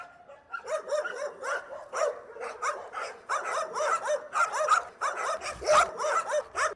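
Stray dogs in Khirdalan and Masazir bark repeatedly in rapid, overlapping bursts, loud and close, with a few yips and whimpers mixed in.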